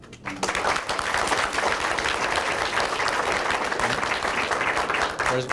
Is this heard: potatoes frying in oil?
no